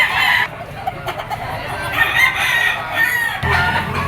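Gamefowl roosters at a Lipa auction market crow loudly and cluck close by, several birds overlapping in a busy, noisy setting with steady background murmur.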